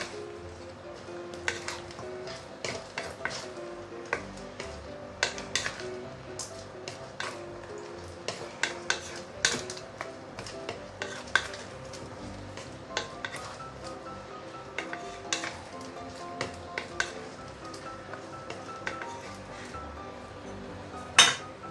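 Pork ribs fry in melted sugar in a wok, a low continuous sizzle broken by frequent sharp metallic clinks and scrapes of stirring.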